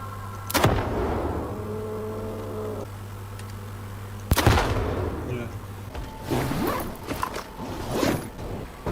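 Grenades thrown against a wall burst in a video game, with two sharp loud blasts a few seconds apart over a steady hum, followed by rumbling and scattered softer impacts.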